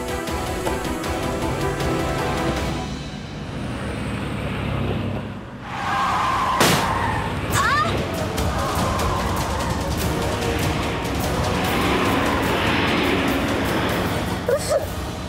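Car with a punctured tyre skidding while driven, a continuous broadband road roar with a sharp skid-like burst near the middle and steady engine and tyre noise throughout, no talk.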